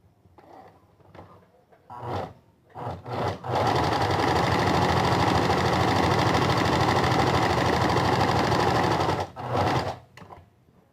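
A sewing machine runs a long steady stitching burst along a seam on a child's drawstring bag, close and loud, with shorter start-and-stop bursts before and after it.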